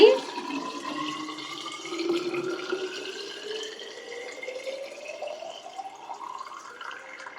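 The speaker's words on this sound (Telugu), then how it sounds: "పిల్లలిద్దరూ స్కూల్కి తీసుకెళ్ళడం కోసం వాటర్ బాటిల్ అయితే నింపుకుంటున్నానండి" Water pours into a school water bottle, its pitch rising steadily as the bottle fills, close and continuous throughout.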